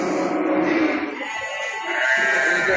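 Several sheep bleat in overlapping, wavering cries, close and fairly loud, with faint voices in the background.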